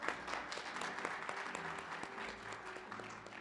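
An audience at a practical nursing pinning ceremony claps throughout, a dense, even patter of many hands at moderate distance.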